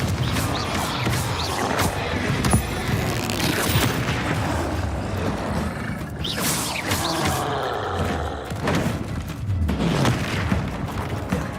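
Hogwarts Legacy combat bursts into continuous booming explosions from the Confringo fire spell, loud and dense, with crashes and roaring game effects piling up for the whole stretch and no talking.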